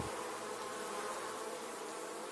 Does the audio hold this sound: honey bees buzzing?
yes